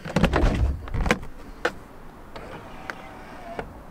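Power side mirrors on a Mercedes CLK folding out automatically after the car is unlocked, a few short mechanical clicks and brief whirring bursts, close and fairly quiet over low background noise.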